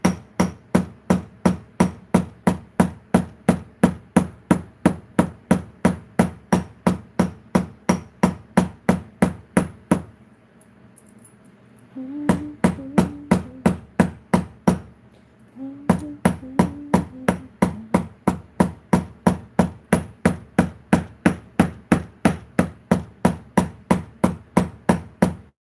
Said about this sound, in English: It says a 13-ounce hammer and my steel block with a rubber base